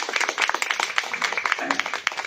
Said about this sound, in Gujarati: તો ફરીથી એકવાર જોરદાર તાળી એમના માટે.